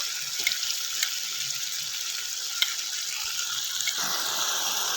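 Water poured into a pan of cooking masala for ghugni, a steady hiss and splash of liquid that shifts in tone near the end.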